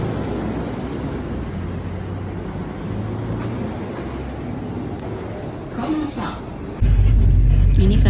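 Riding aboard a bus on a mountain road at Hua Guo Shan in China, a steady engine and road rumble with wind noise fills the cabin, and the low drone swells louder near the end while people talk.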